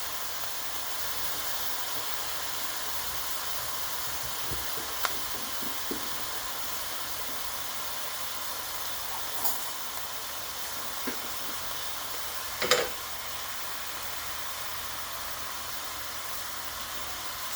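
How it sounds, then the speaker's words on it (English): Tomatoes for salsa cook down in a pan with a steady, even sizzling hiss that runs without a break, with a few faint clinks and small pops along the way. "I'm going to add the tomatoes now, all of them in here. And then just let them cook down."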